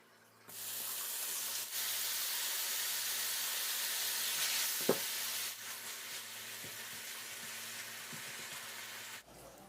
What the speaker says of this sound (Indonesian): Gunakan sedikit olive oil untuk menumis baconnya